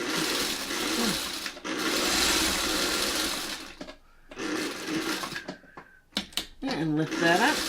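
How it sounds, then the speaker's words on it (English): A sewing machine runs a seam on a Goblet of Stars quilt block, several loud close bursts of fast whirring broken by short pauses and shuffling fabric handling, with brief talk in between. "And now I'm just gonna sew, making sure I don't twist that seam here that runs."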